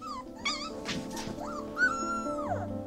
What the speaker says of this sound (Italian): I cuccioli ululano esattamente come gli adulti